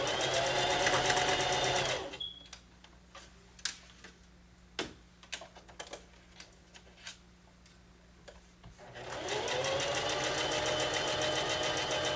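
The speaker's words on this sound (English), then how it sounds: "Then you sew all the way around." A sewing machine stitches fabric for a romper, running loud and continuous at the start and end with a quieter stretch of scattered clicks and taps in between.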